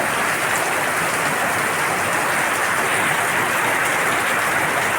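Heavy rain falls steadily in a rural setting after a dry spell, a dense, loud, even hiss of drops on surfaces that never lets up, with no voices.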